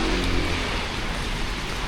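Heavy rain pours down steadily, a dense, constant hiss with no pauses or voices.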